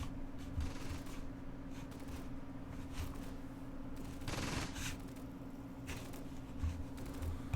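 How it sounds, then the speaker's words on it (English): Rapid bursts of distant gunfire crackle through a steady low hum, with scattered louder shots, from a battle in the video game Close Combat: Gateway to Caen. "Still hear a lot of gunshots, but I don't see from where."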